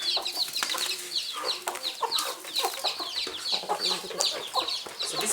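Kienyeji local chickens on a Kenyan farm cluck and peep busily while feeding, many close, overlapping calls in an irregular stream.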